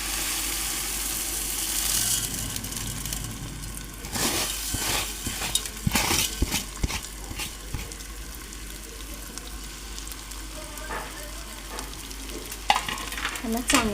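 Dal and rice sizzle in a hot pan as they are stirred and sautéed, a close frying hiss punctuated by bursts of scraping and clattering from the spoon.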